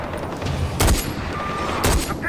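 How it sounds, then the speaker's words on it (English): Gunfire in the open-world shooter Far Cry 4, with two loud sharp bursts about a second apart over a low rumbling background and no clear speech. "I'm taking fire!"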